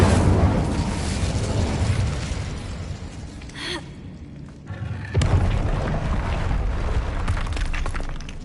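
Fiery spell blast in a magic duel: a loud, sustained roaring burst that rumbles on, dips briefly midway with a gasp-like breath, then surges again with a sharp crack, no talking.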